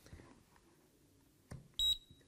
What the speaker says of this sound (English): You can hear a shorter but louder beeping sounds on the new one.